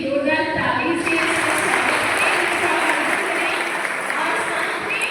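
An audience at a school event at Shramodaya Vidyalaya in Bhopal claps loudly and steadily throughout, a dense sustained applause with voices mixed in.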